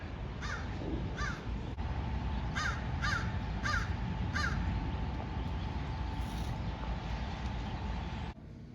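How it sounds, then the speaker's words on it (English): A crow caws loudly in repeated bursts, several harsh calls in quick succession, with a steady hum and traffic rumble in the background on a rainy day in Napa, California. "This bird over here is making a ruckus."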